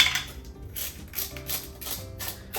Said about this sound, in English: freshly cracked ground pepper